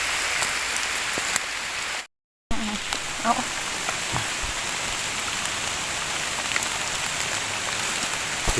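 Steady rain patters densely on surfaces, a continuous hiss with scattered drops, briefly cut to silence for a moment before resuming.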